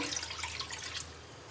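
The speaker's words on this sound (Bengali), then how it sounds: "পানি দিয়ে দেবো কড়াইয়ের মধ্যে" Water pours into a wok on a gas stove for boiling rice for payesh, a faint, close trickling and splashing stream lasting a brief moment.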